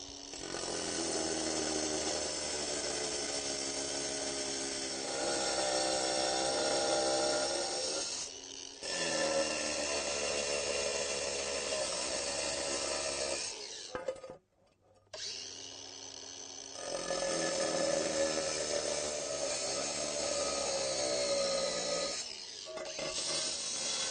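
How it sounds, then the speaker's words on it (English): Angle grinder cutting wall and floor tile outdoors, a sustained high whine in long passes broken by brief pauses, fairly close and steady. "Because we're in a confined space, we're going to use the angle grinder."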